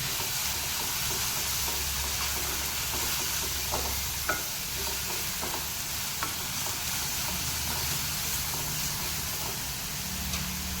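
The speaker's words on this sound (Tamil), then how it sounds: "நல்லா கைவிடாமல் கலரி போடணும்." A spoon stirs prawn gravy in a sizzling pan, giving a steady frying hiss with occasional scraping knocks, close and continuous with no voices.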